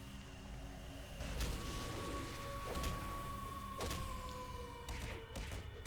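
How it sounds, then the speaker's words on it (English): A long, high-pitched wolf howl from a werewolf in the City of Heroes video game, a steady tone slowly sliding down over several seconds above a rumbling game ambience with scattered thuds. "That was a cool wolf howl."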